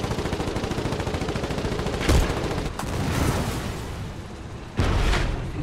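Foxhole war game battle with rapid rattling machine-gun fire throughout and two heavier booming blasts, the second louder and close.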